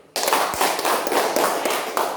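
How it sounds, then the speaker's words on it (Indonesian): Classroom of schoolchildren clapping their hands together, a sudden burst of quick, fairly faint claps starting after a brief silence and continuing steadily. "kita semua tepuk tangan dulu"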